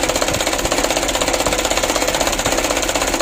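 A diesel engine clogged with jelly-like oil sludge runs rough just after a hard start, its plunger pushed fully; a loud, steady, harsh clattering drone with a fast knocking pulse.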